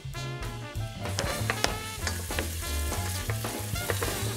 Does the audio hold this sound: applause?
no